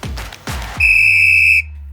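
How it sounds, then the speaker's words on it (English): Two short thumps are followed by a single loud, sharp whistle blast held for nearly a second before it cuts off cleanly, close and alone with no talking. "When you hear the whistle,"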